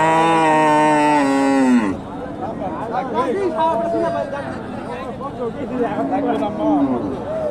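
At a rural cattle market in Naogaon selling Sahiwal and local cows, one cow gives a long, loud, drawn-out moo close by, followed by a busy crowd talking and chattering.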